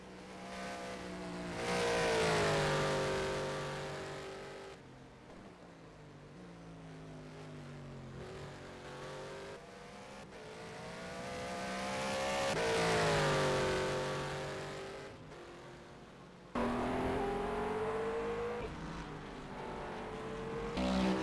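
GT race cars in a virtual endurance race at Bahrain, engines revving hard and climbing through the gears as they accelerate out of turn 11, several loud rising passes with gear-change dips.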